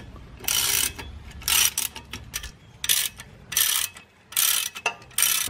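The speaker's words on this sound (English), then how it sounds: "So as I tighten these bolts, you could see the rotor come loose" Bolts being tightened with a ratcheting tool to push a rusted rear brake rotor off a 2007 Cadillac Escalade: five or six loud bursts of rapid ratchet clicking, each lasting about half a second, separated by short pauses.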